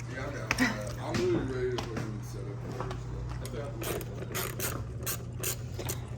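Ratchet wrench with a 10 millimeter socket clicks rapidly as it turns bolts while fitting an F8X car mod, the close mechanical ratcheting running in bursts under intermittent talk and a steady low hum.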